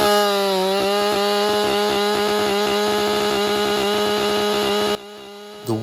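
A chainsaw trims the limbs and top off a felled tree in deep woods, its engine droning loud and close with a pulsing, sputtering idle rhythm before dropping away near the end.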